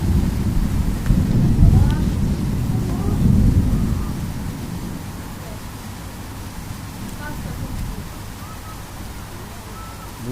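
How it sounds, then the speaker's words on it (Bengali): Rain shower over the capital city after days of heat, a steady wash of falling rain with low rumbling and wind buffeting in the first few seconds, then easing to a constant hiss, with voices talking over it. "রাজধানীতে স্বস্তির বৃষ্টি দেখেন।"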